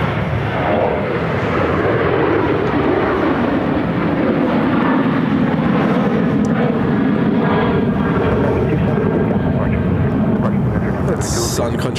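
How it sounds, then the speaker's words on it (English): Delta Airlines Airbus A350-900 jet inbound from Atlanta landing at Phoenix airport, a steady loud broadband engine roar held throughout with constant rumble, heard outdoors near the runway. "Delta Airlines flight 348. It's an A350 900 coming in from Atlanta."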